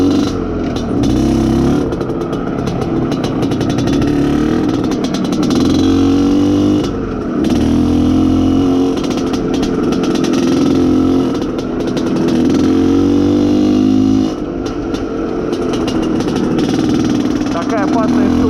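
Izh Planeta Sport motorcycle engine running steadily during break-in, a continuous loud buzzing drone with small rises and falls in revs, heard outdoors with no pause over its length.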